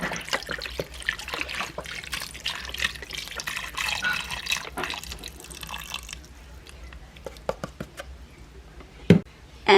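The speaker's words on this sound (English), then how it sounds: "And now I'm gonna put 2 cups of beef broth." Beef broth trickles and splashes into an Instant Pot, a steady close pour that thins out toward the end, followed by a few clunks and knocks, with no speech.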